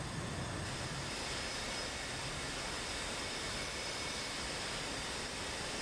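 An F/A-18 Hornet jet in DCS flight simulation, a steady broadband engine roar holding at moderate level throughout with no break.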